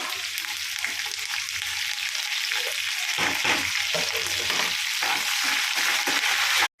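Curry leaves and spices crackling in hot oil as tempering for mango pulihora, a dense continuous sizzle close up with irregular spattering pops, holding steady until it cuts off abruptly at the end.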